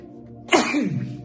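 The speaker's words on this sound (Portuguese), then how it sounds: "Ai, caramba, quase espirro." A single sharp sneeze bursts out close by, a quick explosive burst that trails off into a breathy exhale.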